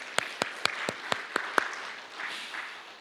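A church congregation applauds during a Sunday worship service: a handful of sharp, separate claps rings out first, then blends into a softer, sustained wash of applause from the whole room.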